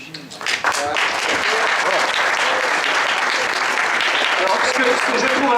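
A political debate audience in a French-speaking hall breaks into sustained applause, loud and continuous clapping from many people that swells quickly and holds steady.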